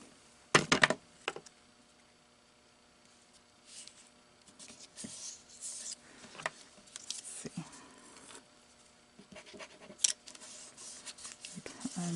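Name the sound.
scissors cutting paper for a card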